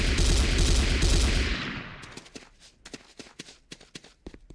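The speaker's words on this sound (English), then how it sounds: "The next weapon is the Corbretti AR-70 Raptor automatic rifle." Automatic gunfire from the Corbretti AR-70 Raptor rifle in Command & Conquer Renegade commando training: a loud continuous burst that cuts off, then a scatter of sharp separate shots and clicks.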